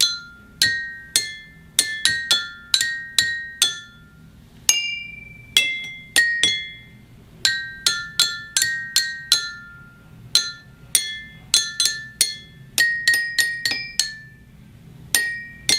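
Musical drinking glasses are struck in thirds, giving a long series of bright, ringing glassy notes, often in quick pairs, with short pauses between phrases, close and clear, with no talking.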